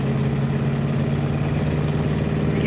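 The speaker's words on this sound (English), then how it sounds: "Nice rumble, as you can hear, coming out of the back of this car." A 1956 Chevrolet Bel Air convertible's engine idles close by with a deep, steady rumble, low and continuous, with a throaty exhaust tone and no talking.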